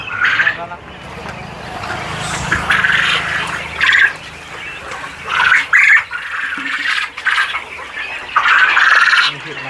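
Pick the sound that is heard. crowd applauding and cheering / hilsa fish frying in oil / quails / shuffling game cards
quails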